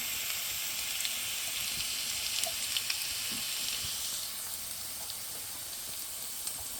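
Bay leaves, dried chilli and garlic fry in hot mustard oil, a steady close sizzle and hiss with a few faint pops and no talking.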